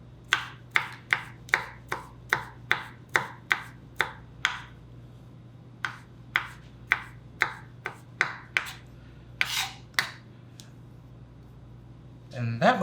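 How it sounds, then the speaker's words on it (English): A knife chops garlic into rough slivers on a board, a quick run of sharp evenly spaced close taps, a pause, then another burst of chopping. "run my knife through it and have some rough slivers of this as well"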